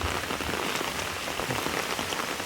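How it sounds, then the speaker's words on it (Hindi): Steady, dense rainfall pours onto a hard surface, a constant close hiss of drops with no pauses and no voices. "बारिश में भीग रहा हूँ।"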